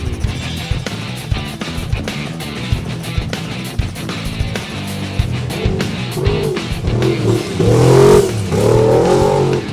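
An off-road race truck's engine roars and revs hard as it launches off the start at King of the Hammers, rising in pitch through gear changes amid rattling and road noise.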